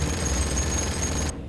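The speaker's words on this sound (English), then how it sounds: "I love this assault cannon, I really do." An assault cannon fires a sustained, rapid burst of gunfire in the video game Space Hulk, loud and dense over about a second and a half, then cuts off abruptly.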